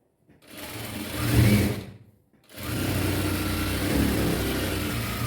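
A sewing machine stitches a blouse panel in a close, steady whir, with a short burst, a brief pause, then a longer continuous run.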